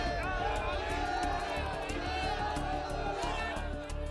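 A large angry crowd of Karni Sena activists, some waving swords and sticks as police arrive, raises a dense, continuous hubbub of shouting and overlapping voices, loud and close throughout.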